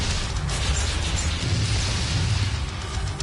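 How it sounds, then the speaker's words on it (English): Dense, continuous rumble and bursts of rocket fire and explosions from the Doom VFR game, loud and sustained with no pauses across the short stretch. "Try firing some rockets off."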